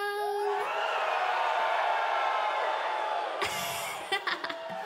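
A crowd at an offline concert screams and cheers loudly, a sustained high-pitched roar that holds steady for several seconds before breaking off into scattered shouts and a few voices.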